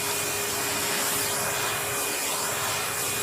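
A Hoover vacuum cleaner runs continuously while grooming a cat, giving a steady, loud whooshing hum with a faint rubbing texture and no pauses.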